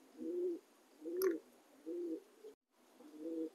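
Shatin and American fantail pigeons coo in four low, throaty phrases with short gaps between them, each rolling call clear and close in an otherwise quiet setting.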